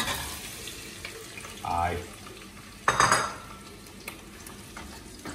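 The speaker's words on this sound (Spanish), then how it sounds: "Aceite caliente, huele aceite, pues es el momento. Cebollas para adentro." Onions hit hot oil in a pan with a sudden sizzle and stirring clatter, a loud burst midway over continuous frying hiss, with a brief spoken word.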